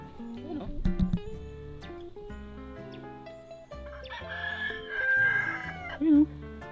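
Chickens cluck and squawk close by while a rooster crows loudly in a long, drawn-out call, with scattered farmyard noises around them.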